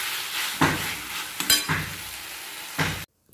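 Curry (jhol) stirred and frying in a pan on a home kitchen stove: a steady broadband sizzle with three sharp spoon scrapes, gathering to a bursty peak about midway, before cutting off abruptly.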